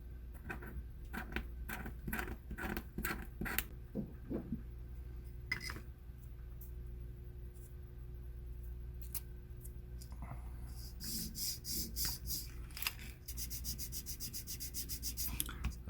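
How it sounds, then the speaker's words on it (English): Scraping a picture off a hard, flat surface on a Miranda Hornet refit, heard as a run of close, rhythmic rubbing and scraping strokes, with brighter, harsher scratches near the end. "so I gotta scrape that off."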